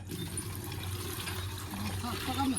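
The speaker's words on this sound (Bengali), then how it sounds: "এখন জলের বালতিতে জল ভরে নিয়ে যাবো" A bucket fills with water from a tap, a steady continuous rushing splash, close and fairly loud throughout the short stretch, with a faint murmur of background noise.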